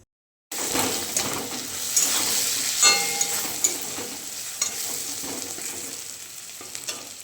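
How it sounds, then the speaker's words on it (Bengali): A hilsa fish head fries with onion and chilli in a pan: after a short moment of silence, a loud, continuous sizzle sets in, dotted with scraping stirs and light clatter of the pan. "মাছের মাথাটা ভাজা হয়ে গেছে পেঁয়াজ লঙ্কা দিয়ে"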